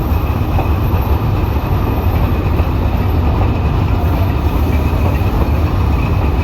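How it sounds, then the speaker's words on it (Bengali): Chilahati Express passenger train braking on a Bangladeshi line near Ibrahimabad railway station, heard as a loud, steady, dense rail rumble and roar from close by that continues without a break. "ট্রেনটা ব্রেক করছে, দাঁড়াবে মনে হয়"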